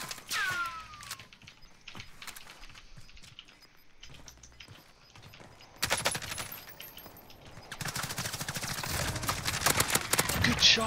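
Video game gunfire, sparse bursts early on giving way to dense, rapid automatic fire that grows louder and more sustained toward the end, with players talking over it.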